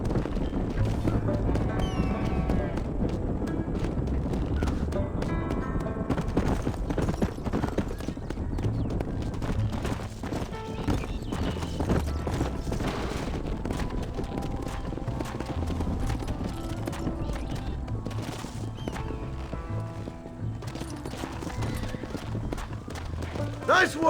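Steady clip-clop of horse hooves in Red Dead Redemption, trotting close and continuous throughout, with characters talking over the hoofbeats.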